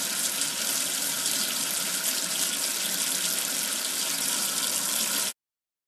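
Water runs steadily from a tap in a kids' number-washing game, rinsing soap off, a continuous loud splashing rush that stops abruptly near the end.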